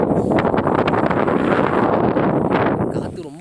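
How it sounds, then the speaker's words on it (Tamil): Strong wind buffeting the microphone on a motorcycle ride through the hills near Kanchanagiri, a loud, rough continuous roar that eases off at the end. "காற்று ரொம்ப அதிகமாக அடிக்குது."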